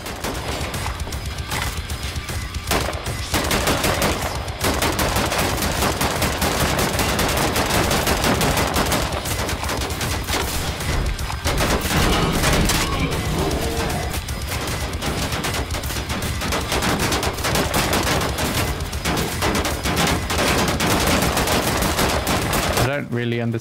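Loud, dense gunfire in Wolfenstein: The New Order, with sustained automatic bursts and rapid shots packed almost without pause. Brief lulls break up a near-continuous barrage, and a voice talks underneath.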